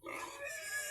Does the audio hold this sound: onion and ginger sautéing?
no